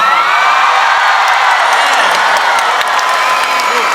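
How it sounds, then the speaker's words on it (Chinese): A packed indoor arena audience at a Taipei Arena concert screams, cheers and whoops in a loud, dense, continuous roar that fills the whole stretch without letting up. "全场的尖叫声在哪里呢"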